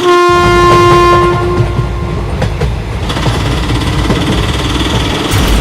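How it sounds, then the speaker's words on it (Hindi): A cartoon train engine approaches with a loud sustained horn blast up front, then heavy rumbling wheels and clattering rail noise that stays loud and close to the end. "सामने से तो एक ट्रेन नहीं बल्कि एक ट्रेन का इंजन आ रहा है"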